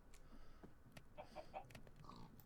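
Hens clucking inside a hen house in the video game Stoneblock 3, a few short, soft clucks over a steady low background hum, fairly quiet throughout.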